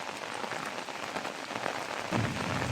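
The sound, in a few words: heavy rain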